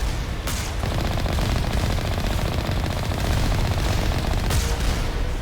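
Rapid, sustained automatic gunfire fills the scene while shooting at moving enemies in the video game Mass Effect, a dense, loud stream of shots with a couple of sharper bursts near the start and end.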